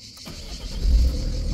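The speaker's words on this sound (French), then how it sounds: "donc le véhicule démarre" A Peugeot 207 HDi diesel car with a fuel pressure regulator fault cranks and catches, its engine rising into a loud, low rumble close by, with no talk.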